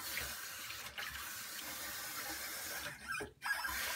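Tap water runs steadily into a sink while a Muhle R89 safety razor is rinsed under it, a close, continuous splashing hiss with a brief interruption near the end.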